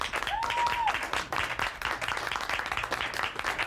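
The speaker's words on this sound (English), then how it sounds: "By way of applause, let's hear it for Mr. Wonderful." A wrestling talk-show studio crowd applauding steadily throughout, dense clapping that fills the space, with a brief whistle near the start.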